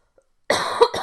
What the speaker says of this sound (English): oh my gosh, this cough